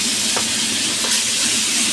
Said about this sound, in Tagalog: Ipiprito natin siya ng bahagya.